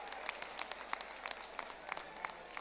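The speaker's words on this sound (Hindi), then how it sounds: "तालियों की गड़गड़ाहट से हम अपने बागेश्वर धाम महाराज की भी या आशीर्वाद हम लोग ग्रहण करें।" A crowd at a religious gathering in a historic Dussehra ground applauds steadily, with dense scattered clapping that holds at a moderate level throughout.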